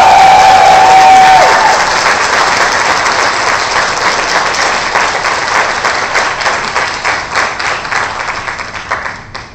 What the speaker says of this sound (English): A round of applause to all the parents.